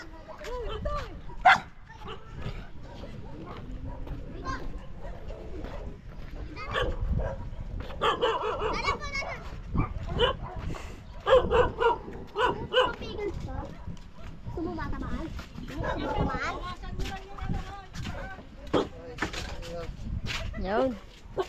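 Many dogs bark in short, scattered bursts and yips at varying distances, mixed with people talking throughout.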